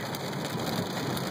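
Steady rain falls outdoors as a soft, even hiss that stays constant and fairly quiet throughout, with no voices.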